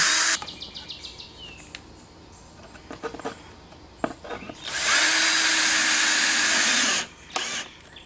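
A power drill whirs loudly and steadily for about two seconds drilling pilot holes in wood for a subwoofer box, after scattered clicks and handling noises, then stops, followed by a brief clatter.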